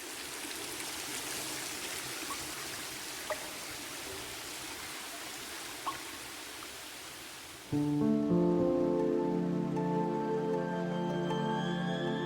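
Water running beneath a waterfall in a garden cave, a steady broad rushing hiss that echoes, with soft music fading in over it toward the end.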